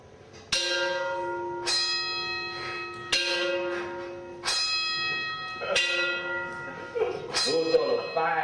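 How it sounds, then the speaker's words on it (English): Plantation bells ringing at 5 a.m. near sugarcane fields: six loud, resonant metallic strikes spaced about a second apart, each leaving a long ringing decay that overlaps the next. "Those are the 5 a.m. plantation bells calling black folks to work the sugarcane field."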